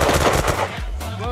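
Rapid bursts of gunfire in the video game Unturned during a raid on a roleplay town, loud at first and then easing as a voice briefly cuts in.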